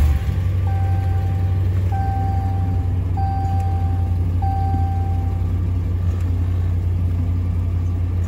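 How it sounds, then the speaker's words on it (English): Engine of a 2015 Ram 1500 pickup truck idling with a low steady rumble, close and continuous, while a series of four evenly spaced reversing-style beeps chime over it. "So now we're just gonna hop on the truck, start it up, pump the brakes,"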